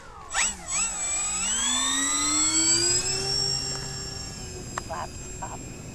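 An Avios BushMule electric RC plane flying on a winter day, its motor whining in a rising and falling pitch as it passes, steady and fairly close.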